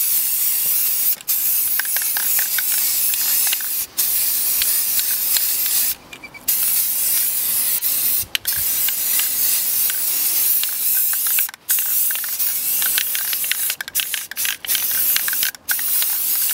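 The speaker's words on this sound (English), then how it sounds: "First, I'm going to spray the whole thing with some plastic primer." Spray can applying plastic primer to a steampunk octopus model, long steady hissing bursts with brief pauses between passes, close and loud with no talk.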